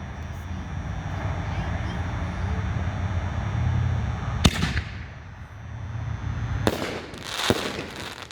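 Bang Bang canister firework shell by Boom Wow bursts with a sharp, loud bang followed by a second crackling break a couple of seconds later, over outdoor crowd chatter and ambient noise.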